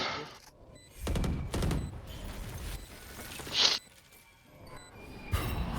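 Gunfire striking a wall in Valorant, a few sharp bursts of shots scattered across the moment, with a bright metallic ping midway and quieter game ambience between, no voices.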